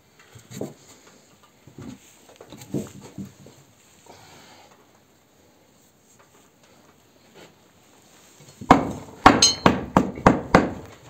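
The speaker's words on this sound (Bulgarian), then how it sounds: "Дай ми чука." A quick run of sharp hammer blows nailing wooden boards onto a barn, about six strikes close together, following sparse quieter knocks and handling noises.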